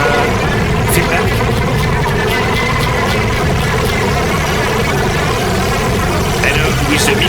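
Feedback patch on a Gotharman's Tuul synthesizer with reverb: a dense, steady, roaring wash of noisy tone that fills the whole clip at a constant loud level, with a few brief bright flickers on top.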